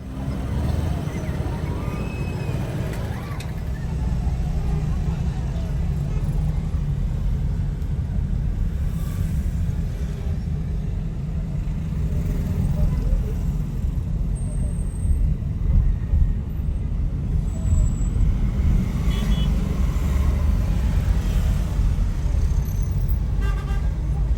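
Steady road traffic fills a busy Moroccan market street, a constant low rumble of engines and passing vehicles with an occasional faint horn, unbroken for the full length.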